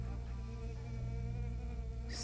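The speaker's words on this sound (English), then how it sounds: "The bee is following me." A bee buzzes in a VR video game preview, a continuous steady droning hum close by, holding level throughout with a brief brighter noise at the end.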